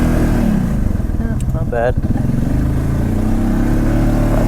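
A Polaris Ace 570 utility vehicle drives through snow, its engine a steady close mid-pitched drone that holds throughout while someone speaks briefly over it.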